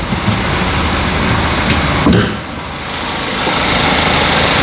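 A 2014 car engine idling with the air conditioning running, a steady broadband hum and whir with a brief dip in level midway, close and continuous with no talk.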